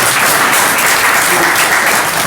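An indoor audience at a gathering in Delhi claps in loud, dense applause, a steady wash of many hands with no pauses across the whole stretch.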